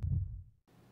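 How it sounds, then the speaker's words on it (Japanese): Heartbeat sound effect in the Japanese horror game Tsugokomori, a deep low throb that swells and then fades, followed by a quieter hum, with no talking. "谷村くんは心臓の鼓動がこだましているかのような錯覚に陥った。"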